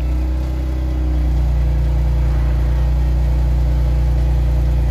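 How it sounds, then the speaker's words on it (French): A BMW car engine fires up and settles into a loud, steady idle with a deep, even hum close by, after work on its steering wheel. "on peut démarrer le véhicule."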